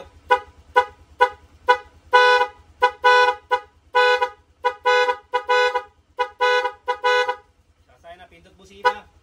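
A Honda Click scooter's musical horn sounds in a rapid series of short and longer melodic toots, loud and close, ending with a softer warbling tone.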